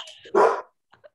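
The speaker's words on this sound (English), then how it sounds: "he is legitimately barking into the mirror" Small dog barking at its own reflection in a mirror, one sharp close bark followed by a couple of faint yips, heard indoors.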